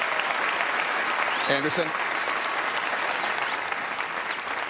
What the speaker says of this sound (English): let's have one final round of applause for the candidates